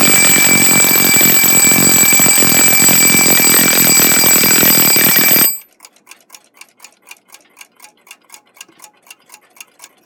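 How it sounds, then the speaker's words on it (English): A Westclox mechanical alarm clock rings with a loud, continuous metallic bell for several seconds, then stops abruptly, leaving its quiet, steady ticking alone. "Turn the alarm to the point where it's supposed to ring."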